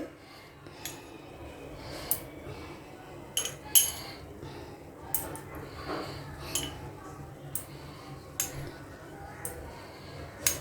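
Chopped cashew nuts spooned into a glass of lassi, a string of light clinks and taps of spoon against glass spread through the clip over a soft room hiss.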